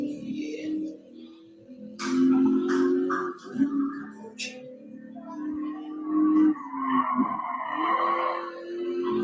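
The vintage Alfa racing car's gigantic 6.8-liter V8 grumbles in GT Sport, a deep, lurching engine note that rises and falls through revs, with brief higher tire-like squeals over it.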